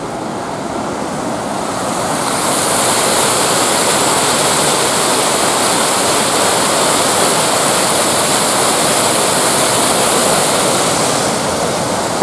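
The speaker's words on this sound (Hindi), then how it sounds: "पानी का गेट उन्होंने खुला छोड़ दिया है" Water rushing through the open gate of Kejudevi Dam on the Pawna River near Pune, a loud, continuous roar that swells in after a couple of seconds and holds steady without any talk.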